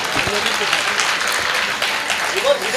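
Audience applause at a Hindi hasya kavi sammelan comedy poetry show, a steady hissing wash of many hands clapping that continues evenly, with some voices mixed in.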